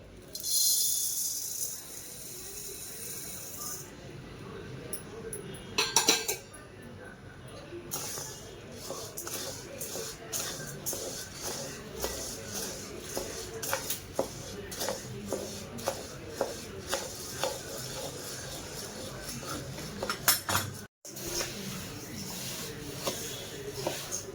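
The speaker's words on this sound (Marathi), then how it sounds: "आता आपल्याला ज्वारी भाजून घ्यायची आहे" Jowar (sorghum) grains dry-roasting in a pan, with continuous rustling and scraping broken by scattered sharp crackles and pops throughout, close and fairly loud.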